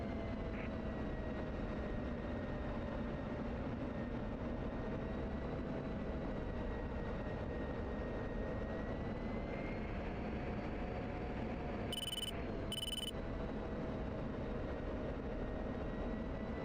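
An aircraft on short final approach to runway 23 at Kandahar produces a continuous engine drone with a steady whine, constant and unbroken, interrupted by two short bursts of radio static.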